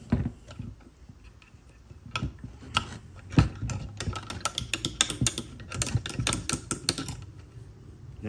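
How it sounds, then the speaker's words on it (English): Close, irregular metallic clicks and scraping as a screwdriver pries a pin out of the valve on a 2004 Troy Bilt pressure washer, sharp ticks clustering more densely in the second half. "we're gonna pull this this pin here out of here. You just do that with a screwdriver."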